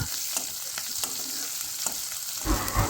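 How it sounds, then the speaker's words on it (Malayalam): Drumstick leaves fry in a pan for a curry and are stirred over low flame. A soft, continuous crackling hiss is punctuated by light scrapes and taps, and grows a little louder near the end. "ചെറുതായിട്ടൊന്ന് വയണ്ട് വരുന്നവരെ ഇളക്കി കൊടുക്കാം"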